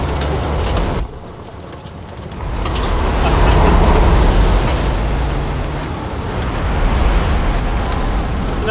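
A 2023 Ford Bronco driving off-road, a loud, continuous engine and tyre rumble that dips briefly, then surges and swells again over rough ground.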